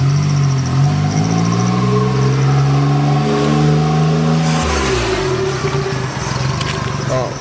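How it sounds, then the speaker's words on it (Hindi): A student-built car with a 37-horsepower Maruti 800 engine and a K&N air filter revs loudly and close, its droning note climbing then dropping off halfway, with a rougher, lower idle afterward. "वो मारुति 800 का 37 हॉर्स पावर का इंजन है"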